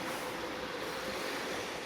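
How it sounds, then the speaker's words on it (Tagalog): A boat or ferry heading to Sumilon Island off Oslob, Cebu, gives a steady, loud, broadband engine and water rumble that runs unbroken, with no voices. "To ay barko o bangka padong sa Sumilon."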